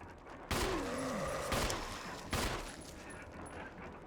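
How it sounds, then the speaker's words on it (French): Pistol gunshots in the Resident Evil Remake video game: three sharp, loud shots about a second apart, each with a short ringing tail over a quiet game ambience, with a brief creature-like groan. "Et maintenant je vais finir au pistolet"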